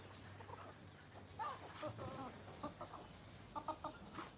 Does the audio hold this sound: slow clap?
no